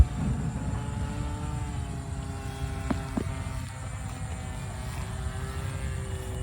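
A large homemade delta-wing RC plane with a propeller motor flies overhead, giving a steady buzzing drone mixed with broadband wind noise; a couple of brief clicks stand out midway, and no one speaks.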